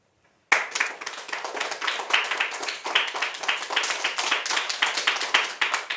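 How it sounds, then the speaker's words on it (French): A studio audience on a French quiz show about fossils breaks into applause for a contestant, starting abruptly from silence into a lively, rhythmic burst of close hand claps that keeps going strongly to the end. "applaudissements très nourris pour Gaspard"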